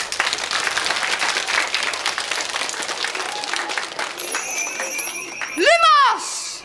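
An audience breaks into applause, a dense clapping wash that fills the first part, then fades as a bright whistling, warbling tone with sliding pitches rises and cuts in near the end.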